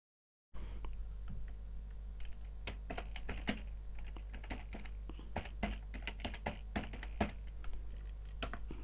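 Steady typing on a computer keyboard while entering text in a LibreOffice Calc spreadsheet, with irregular close key clicks throughout and no talking.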